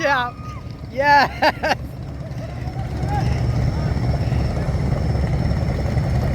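A large river launch boat drones low and steady, its heavy engine rumble growing and filling the second half, while excited voices shout over the first couple of seconds.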